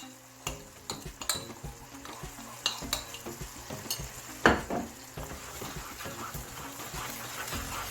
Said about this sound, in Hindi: फ्लेम हमने मीडियम रख के इसको भूनते जाना है।